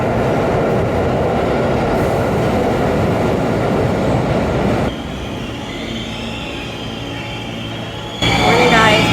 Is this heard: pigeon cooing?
no